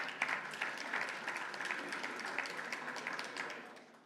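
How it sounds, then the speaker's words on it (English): Faint audience applause in a conference session hall, a steady patter of many hands that fades out toward the end. "I would certainly give the minister a round of applause"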